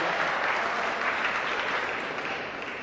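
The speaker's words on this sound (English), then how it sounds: "Give him a round of applause" Steady applause from an audience at an awards event honoring Best Lyricist, dense and continuous clapping that holds level and then eases slightly toward the end.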